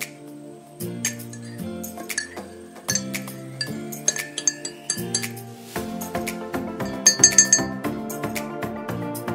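A spoon stirs powdered milk into a clear glass of water, giving bright, ringing clinks against the glass in quick, uneven bursts that grow busier toward the end.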